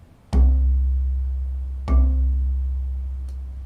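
A classroom bass bar struck twice, giving deep resonant booming tones that sustain and fade slowly, the strikes about a second and a half apart, loud and close, followed by a faint tap near the end, with no talking.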